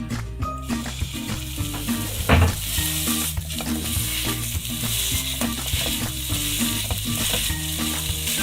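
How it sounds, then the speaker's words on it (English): A steak burger patty sizzles loudly in an oiled pan, a continuous crackling fry close up with a few clinks of utensils against the pan. "I'm going to add a little bit of oil to the pan. Now we're going to put in our first burger."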